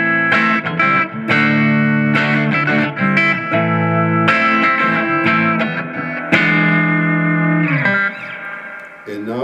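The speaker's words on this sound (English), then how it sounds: "If we go over to the humbucker," A Newcaster electric guitar played through its humbucker pickup, loud and upfront, with sustained strummed chords and picked notes that ring out heavily processed by effects and distortion, ending in a fading, swelling tail.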